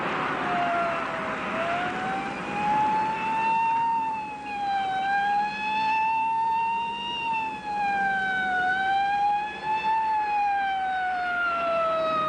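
A police car siren wails continuously, rising and falling in a slow repeating sweep, loud and close throughout.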